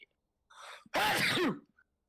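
A single sharp sneeze with a brief breathy intake just before it, close and loud, then quiet.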